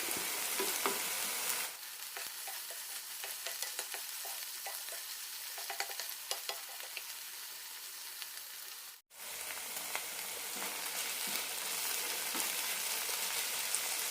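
A mushroom stir fry cooks down in coconut oil with a dense, even hiss of frying and scattered faint pops. The sound cuts out for a moment near the middle and then carries on just as before.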